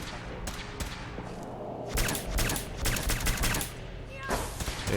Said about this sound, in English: If I see an opportunity, I'll shoot down some Brotherhood.